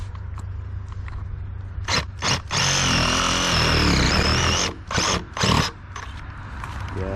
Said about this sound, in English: Then I'm going to make a cut with my reciprocating saw back here.